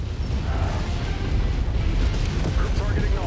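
Artillery cannon explosions in MechWarrior 5 form a heavy, continuous rumbling barrage with mechanical creaks, loud and close under faint radio-style voices.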